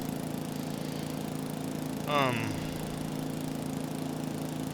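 A tractor in Farming Simulator 22, hitched to a trailer, drones with a steady mid-pitched engine hum throughout, joined midway by a brief rising whine.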